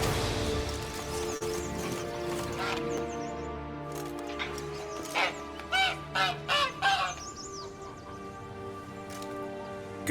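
A caged hen-like goose in The Witcher 3: Blood and Wine gives a short run of loud, nasal honks near the middle, over game ambience with clip-clopping hooves and a low background drone, and no one talking.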